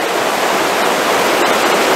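The Vedder River rushes past in a dense, steady roar of broadband water noise, loud and close, with no voices.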